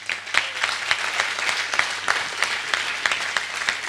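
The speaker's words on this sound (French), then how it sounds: "Je voudrais à vous tous que vous tous vous l'applaudissez." Gala audience at a Rabbi Haim Pinto evening clapping in appreciation, a moderate, fairly even patter of many hands with distinct individual claps standing out over a steady low hum.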